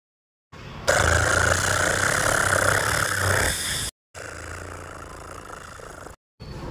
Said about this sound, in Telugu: పిల్లలు, ఇదిగోండి మీ ట్రాక్టర్.